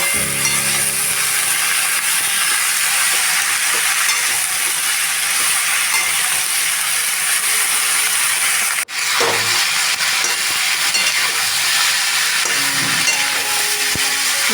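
A fish head fries in a pan with pointed gourd, a steady, close sizzle and crackle that holds for the whole stretch, broken only by a brief dip midway and a few light clinks near the end.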